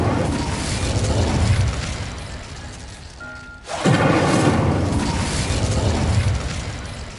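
An Incendio fire spell erupts in the game Hogwarts Legacy, a roaring, rumbling blaze that dips briefly into quiet before a sudden loud whooshing burst returns to a sustained fiery roar.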